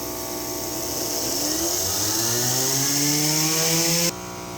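A small steam turbine in a Rankine-cycle steam power plant, its shaft under zero load, spins up after a valve opens. A loud whine climbs steadily in pitch with rising harmonic tones, then drops off abruptly near the end.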